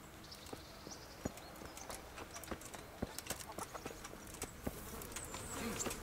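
In the medieval video game Kingdom Come: Deliverance, horse hooves clip-clop steadily at a walking pace over a faint ambient background, each hoof strike a short, sharp knock.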